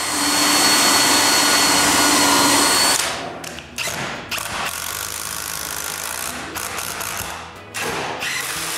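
A power drill bores a pilot hole through clamped plywood for a push block, giving a loud, steady whir for about three seconds before it breaks into irregular clicks and rattling knocks close by.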